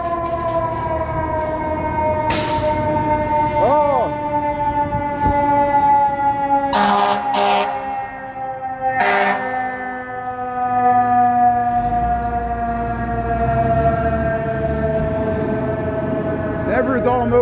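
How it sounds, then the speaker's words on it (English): A fire truck siren wails steadily along a Chicago street, its pitch swooping and holding as it sounds close and loud for many seconds, with sharp horn-like blasts and city noise mixed in. "I heard the siren and I thought it was still that ambulance, but it was a different fire truck."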